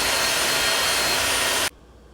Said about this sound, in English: the hand mixer, so in a high speed like 5